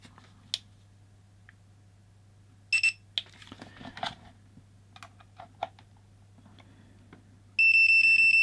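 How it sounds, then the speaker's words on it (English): A Fluke T130 voltage tester gives a steady, piercing electronic beep near the end after some faint clicks and handling taps, with no voices. "And there we go with the beeper."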